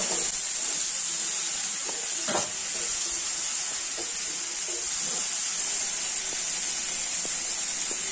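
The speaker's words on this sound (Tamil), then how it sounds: "வேக வச்ச பட்டாணியை போட்டுக்கிறேன். ஜென்டிலா கலருங்கோ." Steady sizzling and hissing from a hot pan with occasional soft scraping as boiled peas are gently stirred, continuous and close.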